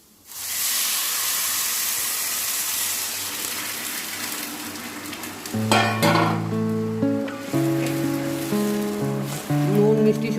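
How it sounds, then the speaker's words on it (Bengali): Measured water, six bowls for three bowls of rice, poured into a hot pan of fried rice, bursting into a loud steady hiss and sizzle, later joined by tonal background sound. "এইবার এই জলটা আমি পুরো দিয়ে দেবো।"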